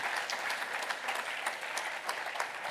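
A church congregation applauds together, dense and sustained clapping throughout with no voices standing out.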